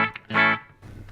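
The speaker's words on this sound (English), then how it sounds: "I'm playing a Fender Stratocaster into a 2 Notes Audio Le Clean." A Fender Stratocaster electric guitar played with a clean tone through a 2 Notes Audio Le Clean, with a short plucked note, then a stronger ringing chord, and a softer decaying strum, close and clear.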